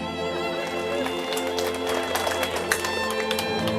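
Hand clapping from an audience at a Bugis Islamic sermon, many hands clapping in a lively patter that builds slightly through the middle, over a sustained musical tone in the background.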